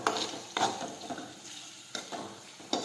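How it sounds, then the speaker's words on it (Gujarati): Okra sautéed with cumin in a pan, soft stirring scrapes and light sizzling recurring in several short strokes, close and fairly quiet. "ફરી પાછું આપણે સાતળી લઈશું।"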